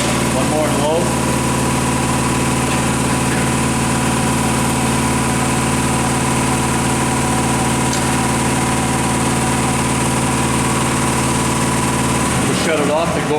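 An air compressor runs loud and close as a steady, droning mechanical hum with a constant low vibration, holding unchanged for most of the stretch before cutting off near the end.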